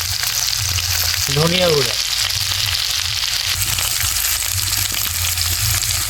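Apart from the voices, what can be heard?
ivy gourd (kundru) frying with spices in a pan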